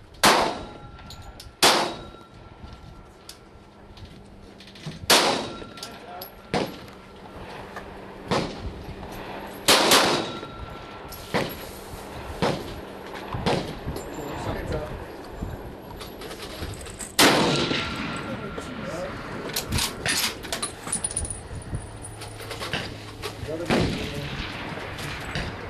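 Gunshots aimed at a steel target on an outdoor shooting range ring out as sharp, loud cracks spaced irregularly across the stretch, each trailed by a metallic clang, with people talking quietly between shots.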